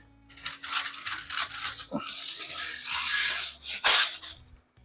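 Masking paper for a Volkswagen Bug roof being ripped and crinkled in several bursts of tearing and rustling, close and fairly loud, with brief pauses and a final sharp tear.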